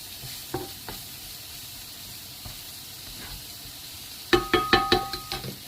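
Eggplant sautéing in a pan for an omelette, a low steady sizzle with a few soft clicks, then a quick burst of rhythmic spatula scrapes and taps against the pan near the end.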